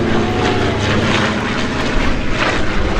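Steady, loud drone of a de Havilland Chipmunk propeller plane's engine at a warbird air show, a continuous rumble with no breaks or voices.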